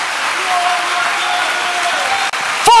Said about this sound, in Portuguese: Forte esse aplauso à palavra do Senhor.